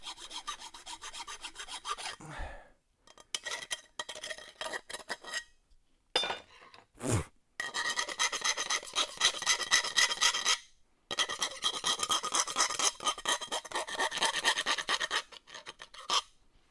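Hand file rasping across a metal burr near a car muffler in a home garage, in long repeated scraping strokes, loud and close, with brief pauses between bursts and no talk.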